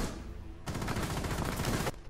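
Tap firing a gun in Rainbow Six Siege, a quick run of close, sharp shots in rapid rhythm lasting just over a second before stopping abruptly.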